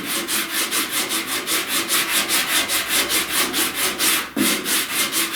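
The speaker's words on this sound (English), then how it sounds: "this edge of this sandpaper will sand the trough right here" Sandpaper rubs back and forth over auto body filler on a truck cab corner, a close, rhythmic rasping in quick regular strokes with a brief pause near the end.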